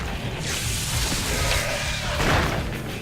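Alternate fire of a weapon in the shooter game Painkiller Hell and Damnation, a sustained loud whooshing, mechanical blast with thuddy low impacts and a surge near the end, dense game noise throughout.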